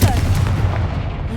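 Confringo fire spell blast in the Hogwarts Legacy video game, a loud booming explosive burst that rumbles on through the short moment.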